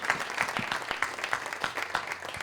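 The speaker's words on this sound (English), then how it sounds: "A very warm applause for how ASN Bank is taking lead in this" Applause from attendees at a workshop on net positive biodiversity impact in finance: a fairly quiet patter of distinct claps at a steady pace, lasting a couple of seconds.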